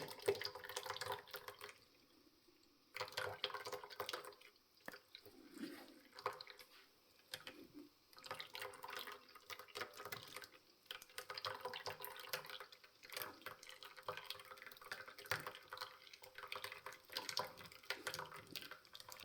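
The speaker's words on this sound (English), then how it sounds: "You just move the pulp around the strainer to get that liquid to go down there." Tomato and onion juice drips and trickles through a strainer as pulp is pushed around, making faint, close, irregular wet splashes and squishes with no talking.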